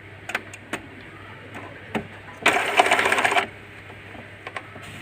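Mechanism of an Epson L120 printer moving inside, faint scattered clicks and ticks followed by a louder one-second whirring run of the carriage motor, then a few more soft clicks, close up and without talk.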